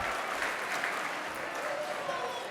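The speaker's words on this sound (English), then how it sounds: "Can you please join us with a round of applause?" Steady applause from a banquet audience in a hotel ballroom, a dense continuous patter of many hands clapping at moderate distance with no pause.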